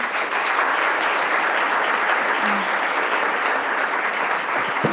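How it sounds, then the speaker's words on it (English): Steady, dense audience applause fills a meeting hall at a school district business meeting, loud and continuous throughout with no pauses. "let's give them another round of applause"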